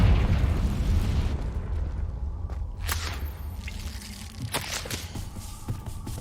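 Confringo blasting spell from Hogwarts Legacy going off as a series of bursts, with sharp cracks near three and four and a half seconds over a constant low rumble.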